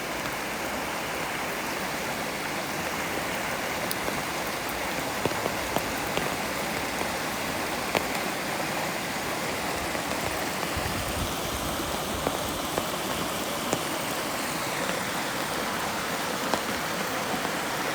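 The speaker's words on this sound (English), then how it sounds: "there's some rain coming down now." Spring rain falls steadily outdoors, an even, dense hiss of drops on surfaces with occasional sharper drips, moderate and constant with no voices.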